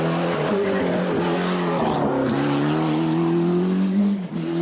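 A loud Ford Sierra Cosworth rally car engine screams through rising and falling revs, with tires squealing as it powers along close by.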